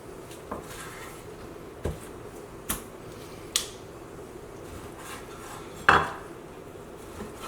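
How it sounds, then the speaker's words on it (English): Knife chopping wild turkey meat into small one-inch chunks, a few sharp isolated taps of the blade against a cutting board spaced a second or so apart, one firmer knock near the end, in a quiet room. "what I like to do is just cut them into little, 1-inch chunks"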